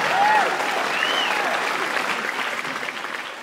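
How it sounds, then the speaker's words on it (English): Applause from a stand-up comedy audience, a broad wash of clapping that holds steady and slowly thins, with a brief voice or whoop rising near the start. "that deserves a round of applause"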